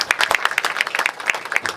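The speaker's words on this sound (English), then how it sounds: "I really want to give yourself a huge round of applause because you all are here" Lively, close applause from a college seminar audience, with sharp, individual claps overlapping in a brisk, uneven rhythm throughout.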